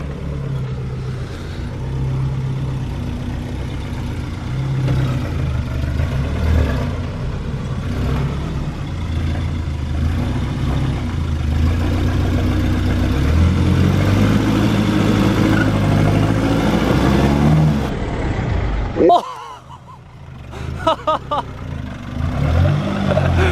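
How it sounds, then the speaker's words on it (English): A Nissan Navara D22 ute on 210mm shackles drives through a deep hole on a Neerim bush track, its engine droning and revving steadily up close before cutting to a few rough knocks at the end. "James is going to drive through this deep as hole that you can't really see on camera and get some sick wheel lift for the content"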